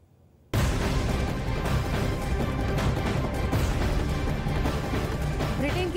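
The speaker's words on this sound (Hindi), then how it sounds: "बुर्ज खलीफा पर पटाखों के साथ लोगों ने नए साल का जश्न मनाया।" Dense New Year fireworks display at the Burj Khalifa, starting abruptly after a brief quiet moment and then sustained as a loud, continuous wash of bursts, crackles and crowd noise.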